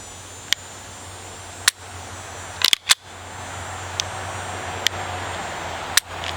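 Springfield Armory XDm Elite pistol trigger giving a handful of sharp, isolated mechanical clicks spread across several seconds, close and crisp over a quiet low hum.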